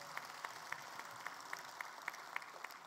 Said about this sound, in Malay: Kita bagi tepukan gemuruh kepada mereka.